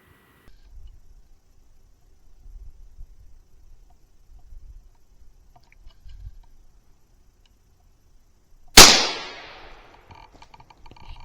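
A single sharp gunshot cracks out near the end during a daytime raccoon hunt, aimed at a raccoon up in a tree, after a long stretch of quiet low rustling.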